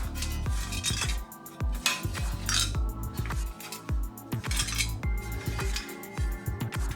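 Repeated metallic clinks and rattles of loose steel knocking inside the bent handle of an antique carbon steel griddle, rapid and uneven as it is shaken up close.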